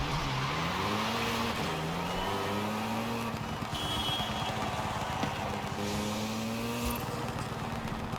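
Car in the racing game Forza Horizon 5, its engine rising and falling through revs with exhaust pops and crackles, steady and fairly close, with no talk.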